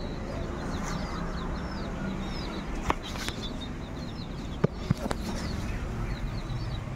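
Desi chickens roam a field, clucking softly amid high chirping birdcalls over a steady outdoor hiss, with a few sharp knocks scattered through.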